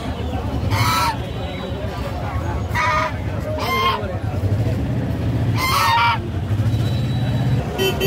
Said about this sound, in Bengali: দেশি মুরগি, দেশি মোরগ।